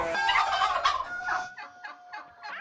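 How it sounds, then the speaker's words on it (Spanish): Common farm turkeys gobble in several rapid, warbling bursts, loud and close at first and then softer, with no speech. "Estos son pavos comunes, ¿no?"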